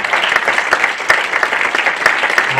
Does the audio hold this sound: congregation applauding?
yes